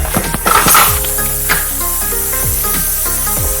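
Mutton sautéing with turmeric and salt for a spicy Marathi mutton rassa, crackling sizzle broken by repeated scrapes and knocks of a spoon stirring against the pot.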